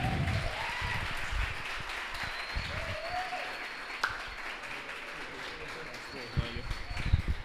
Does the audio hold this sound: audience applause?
yes